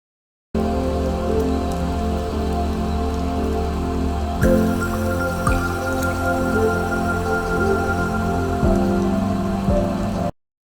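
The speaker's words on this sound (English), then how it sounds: "In some sections, waterfalls pour directly from the mountain peak onto the roof of your car." Mountain waterfall water pouring onto a car roof on a narrow mountain road, a loud, dense, continuous drumming splatter like heavy rain on metal, steady throughout with a few sharper thuds.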